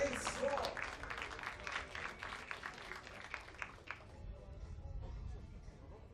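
Crowd applause at a trap shooting competition, a dense burst of clapping from spectators that fades after a few seconds, with a commentator speaking over it.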